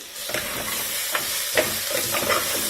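Rice, dal and spices with garam masala for khichdi sizzle steadily in a pan, with a few soft scraping stirs over a continuous close frying hiss.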